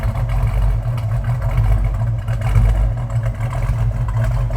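A 1972 Plymouth 'Cuda fitted with a crate Hemi engine and a small cam idles with a steady, deep low rumble, close and loud, with no talk over it.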